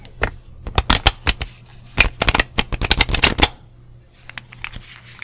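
Deck of cards shuffled in the hands with no table, a quick close run of crisp riffling flicks and snaps that trails off into a few faint taps.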